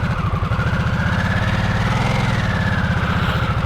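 A 2022 Harley-Davidson Nightster motorcycle idling close up, a loud, steady, rapid low thrum with even pulsing and a faintly tinny edge, no voices.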